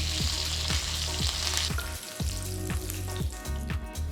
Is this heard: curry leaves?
yes